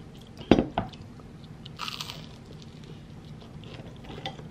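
Crunchy Turkish bread spread with butter being bitten and chewed at breakfast, a sharp crisp crunch early on followed by softer, quieter chewing with faint room noise.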